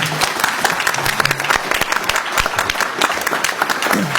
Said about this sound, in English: Let's give our children another round of applause, please.